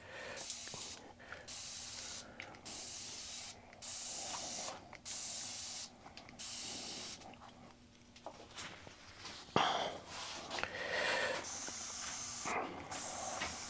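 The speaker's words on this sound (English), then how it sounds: "the sprayer sprays continuously. Even after I let go of the trigger, it sprays" Repeated bursts of hissing spray from a trigger bottle of isopropyl alcohol, broad and airy, with short pauses between them and a steady faint background.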